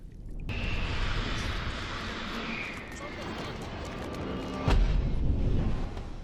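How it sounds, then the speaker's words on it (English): A huge explosion in the film Pan's Labyrinth: a low, continuous rumbling roar broken late by a sudden, loud booming blast, with people talking over it. "It's a huge explosion."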